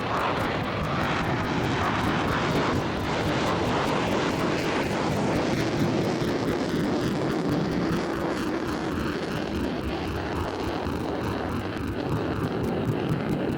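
An RAF Panavia Tornado F3, the air defence variant of the swing-wing jet fighter, makes a long takeoff run, its engine roar loud and continuous throughout, a dense broadband rush that barely varies.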